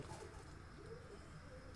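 Pigeons coo softly in a high-flying pigeon breeding loft, low murmuring calls repeating faintly against a steady background hum, with no voices.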